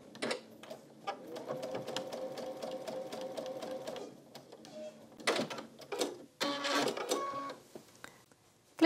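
A sewing machine stitching a quilt-as-you-go tulip block runs in a steady, rapid rhythmic burst for a few seconds, then pauses and restarts in shorter runs, close and clear.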